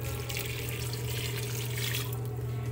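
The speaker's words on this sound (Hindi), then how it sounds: "अब हम इसमें पानी ऐड करेंगे।" Water is poured into a pot of mustard greens, whole chillies and green split moong dal, making a steady, close, continuous splashing stream over a low hum.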